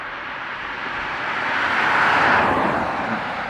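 A Ryanair airliner departing Dublin Airport, its broad jet roar swelling to a loud peak midway before easing slightly, heard alone and fairly close.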